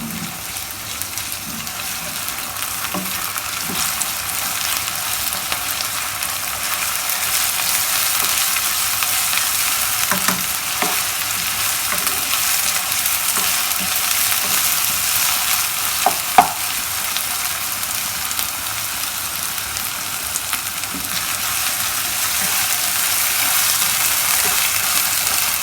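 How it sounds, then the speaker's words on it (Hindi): Ginger garlic paste sizzles and fries steadily in a hot pan, a continuous bright crackle with occasional stirring clinks, no talking. "और इसको अच्छे तरीके से भूनेंगे।"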